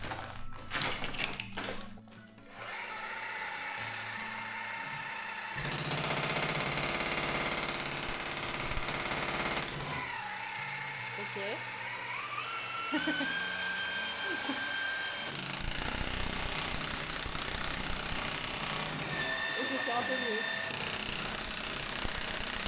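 A demolition hammer with a chisel bit breaks up a floor during a home renovation, its loud rapid pounding running in long continuous bursts with brief pauses, while a person speaks intermittently over it.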